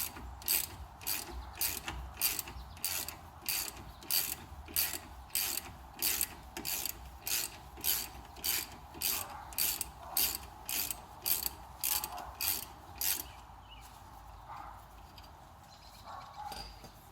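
A ratchet works a 13 mm bolt on the Brembo front brake caliper of a 2016 Mustang GT: a steady run of about two dozen rhythmic clicks, close and clear, that then gives way to lighter scraping.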